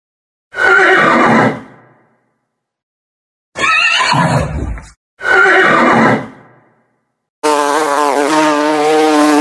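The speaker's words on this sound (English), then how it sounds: "A horse." A horse neighs in four separate loud, close bursts with silent gaps between them, the last a long, wavering, high whinny.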